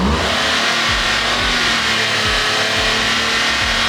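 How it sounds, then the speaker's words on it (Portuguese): Car engine revving hard as it accelerates, a loud continuous roar with rising and falling pitch sweeps, close by and without talk. "se eu acelerar o carro"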